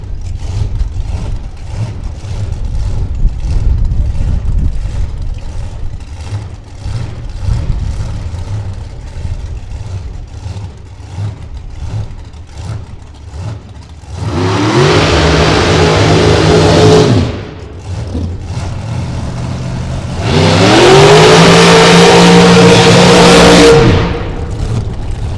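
Drag racing cars at a Las Vegas strip idle with a low engine rumble. Two loud, roaring full-throttle launches follow, each lasting a few seconds before it cuts off.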